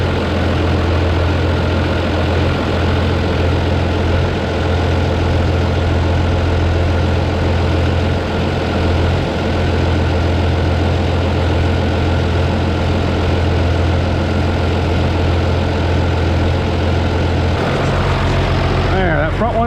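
Engine idling smoothly at just over 800 rpm, a loud, steady low hum that drones on without change, close by, with a brief disturbance near the end.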